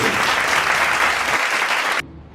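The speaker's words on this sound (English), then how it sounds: "Please a round of applause for Mr. President." Loud, dense applause from an audience at the National Economic Outlook event of the Chartered Institute of Bankers of Nigeria, greeting the President, steady for about two seconds and then cutting off abruptly.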